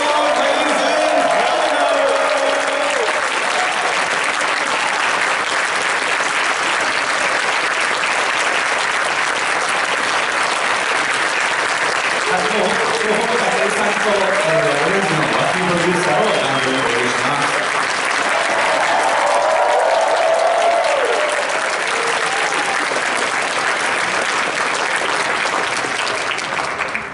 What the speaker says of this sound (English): Let's give a big round of applause, ladies and gentlemen.